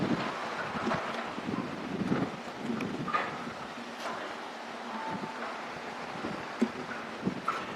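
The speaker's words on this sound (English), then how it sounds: "Yeah, it is some strong wind." Strong wind gusting across an outdoor site at SpaceX Starbase in Texas, a steady breathy roar that buffets the microphone and swells and falls irregularly.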